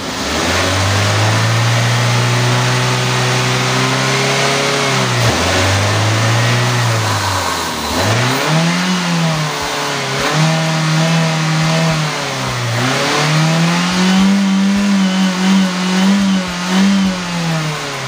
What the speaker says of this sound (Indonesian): Kita tarik kabel gas dari sini ya